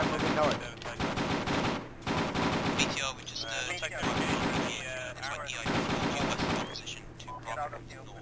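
Bursts of rapid gunfire in ARMA 2 crackle in repeated volleys, loud and busy, with a voice talking faintly underneath.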